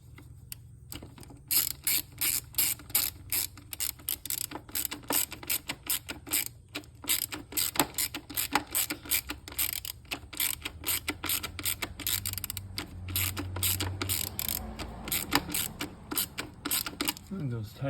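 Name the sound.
ratchet tightening bolts with a 10mm socket on Porsche 928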